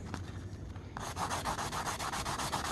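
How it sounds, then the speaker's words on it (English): Sandpaper rubs over the hardened coating of a glitter tumbler in short, rhythmic back-and-forth strokes, close and crisp, with a brief pause before the steady scratchy passes pick up. "just keep sanding until all those shiny spots"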